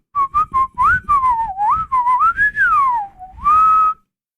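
A person whistles a lively, melodic podcast intro tune, a string of short clear notes followed by a longer sliding phrase, close and loud with no talking.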